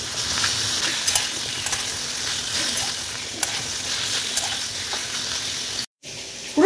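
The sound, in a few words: paneer frying in oil in a pan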